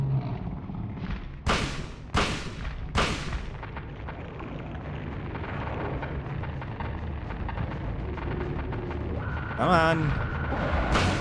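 Gunshots fired at a monster in the PS1 game Silent Hill: three loud sharp blasts in quick succession over a rumbling game soundscape, followed by a brief creature screech, with a voice speaking briefly.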